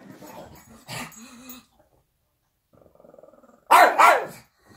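A dog lets out a few sharp barks with a low growl between them, close by, with brief quiet gaps in between.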